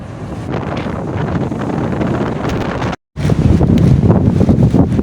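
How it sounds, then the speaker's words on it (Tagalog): Strong sea waves surge and crash around an inter-island ship, with heavy wind buffeting the microphone in a loud continuous roar that breaks off for a moment before resuming. "Lakas ng alon."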